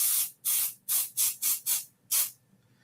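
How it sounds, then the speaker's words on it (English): Pixie spray adhesive is sprayed from an aerosol can onto the back of a stencil, seven short, sharp hissing bursts at a quick, uneven rhythm, close and clear with silence in between. "So I just added a little pixie spray to that section."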